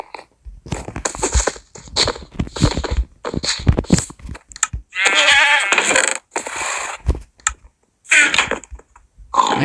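A Minecraft goat in One Block bleats in several short, nasal cries, scattered among clicking and mechanical in-game sounds.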